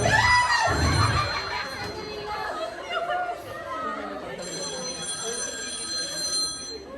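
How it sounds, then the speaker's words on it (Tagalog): A telephone rings on stage during a theatre play, a faint repeating ring heard under lively chatter and overlapping voices. "nanatawag po sa telepono"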